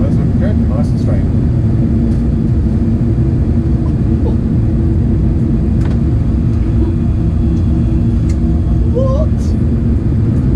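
Boeing 737 rolling out after landing in a flight simulator game, with reverse thrust and full brakes: a steady, loud broadband engine roar and rumble held throughout, with faint clicks and blips on top.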